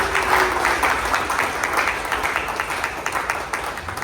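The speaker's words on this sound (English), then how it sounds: "round of applause, thanking every single one of you." Crowd applause at a racing event, continuous close clapping with a few scattered louder claps, steady throughout with no talk over it.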